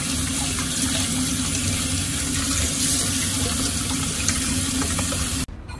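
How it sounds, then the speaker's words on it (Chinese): Eggs rinsed under a steady stream of running tap water, a continuous close splashing wash that stops abruptly near the end. "我们再用流动的清水给它彻彻底底的冲洗干净"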